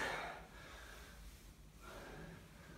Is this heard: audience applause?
no